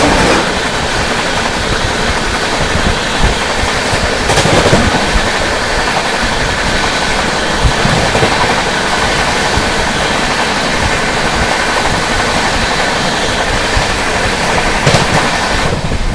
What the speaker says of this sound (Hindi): ये आती है आप लोगों की दिल्ली से चलकर कानपुर की ओर जाने वाली श्रम शक्ति एक्सप्रेस